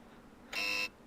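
A single short electronic beep from the Blue Archive video game sounds once, loud and steady, lasting about a third of a second against a quiet background.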